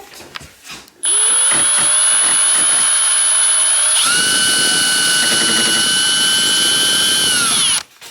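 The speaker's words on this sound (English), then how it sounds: "Pre-drill a little hole." A power drill pre-drills a small hole in wood for a monorail drawer rail, with a loud, steady high whine that runs for about seven seconds after a few brief clicks and then stops abruptly.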